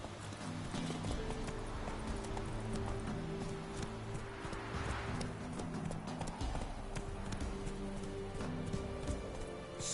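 A horse gallops in The Witcher video game with rhythmic, steady hoofbeats over a quiet tonal backdrop, at a moderate distance.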